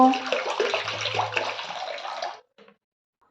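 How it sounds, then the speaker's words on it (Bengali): Water pours into a cooking pot, a steady broadband splashing rush filling about two and a half seconds before it stops abruptly, followed by a brief faint clink and near silence. "আমি কিন্তু এখানে এক লিটার পরিমাণ জল নিয়ে নিচ্ছি প্রথমেই একটু গরম করে নেব"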